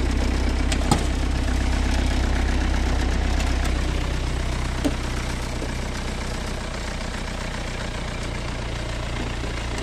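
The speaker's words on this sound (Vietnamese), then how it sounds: "Đấy, máy dầu chạy nghe đến đây đã biết là chất máy dầu nó như thế nào rồi." An Isuzu 2.8 diesel engine in a 2007 Soyat seven-seater idles with a steady low rumble and faint knock, close and loud, running alone throughout with one small bump midway.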